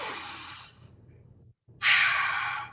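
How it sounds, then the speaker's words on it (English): A long, breathy exhale during a yoga session fades out, then after a short pause a deep, loud inhalation follows, close to the microphone. "One more big breath here as you press."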